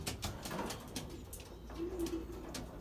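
Belgian racing pigeons in a nearly empty loft give a soft, brief coo amid faint rustling and background noise.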